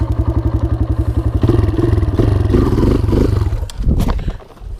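A dirt bike engine putts in a rapid, even rhythm, then roars louder as it revs, followed by a clattering thump as the front wheel comes back down, all close and loud.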